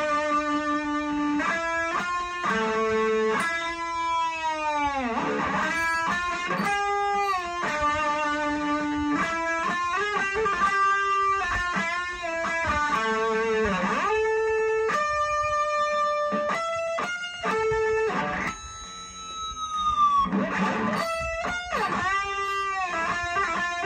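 Distorted electric guitar plays the solo from a song, a steady stream of sustained, bending melodic notes with whammy-style dips, loud and continuous with no talking.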